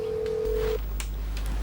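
A telephone rings in a scene of a Singaporean TV drama, a short electronic ring tone with a steady hum underneath, heard briefly and alone.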